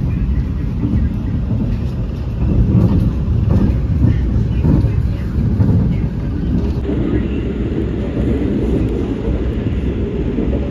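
Taksaka express train running at its top speed of 120 km/h between Jakarta and Yogyakarta, with a loud, continuous rumble and rush of wind heard from on board, along with steady rolling noise and faint clatter.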